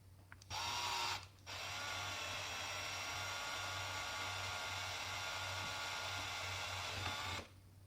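Power drill boring a hole in an Xbox One S controller: a steady, close whine that starts, pauses briefly, then runs on evenly for several seconds before cutting off.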